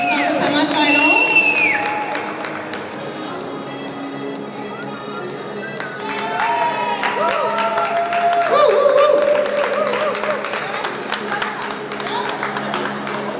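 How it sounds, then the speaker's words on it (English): A crowd claps and cheers steadily in a large room at the Miss Latina International pageant, the applause swelling in the second half while a voice carries over it. "We got a round of applause"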